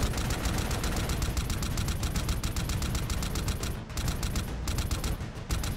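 Rapid automatic gunfire from a video game rattles in a dense, continuous stream of loud, close shots, pausing only momentarily before resuming.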